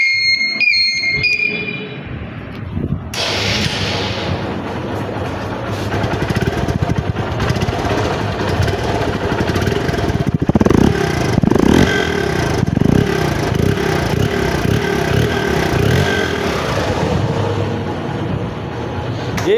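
A Hero Hunk motorcycle engine runs close and loud with a rough, steady idle, then revs in several surging bursts partway through before settling back, with no talking.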